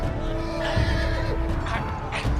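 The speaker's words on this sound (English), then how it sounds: "Oh, shit, there's horses." Horses in the Game of Thrones video game by Telltale neigh and whinny loudly and close, with repeated rising calls over hoof clip-clop and a busy game-sound background.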